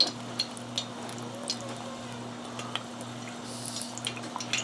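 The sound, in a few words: apple pie egg rolls frying in oil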